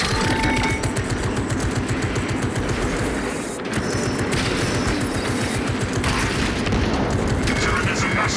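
Turret gunfire in a video game: a steady, rapid stream of loud shots with booming impacts that runs almost unbroken, briefly dipping once, while a voice speaks over the fire.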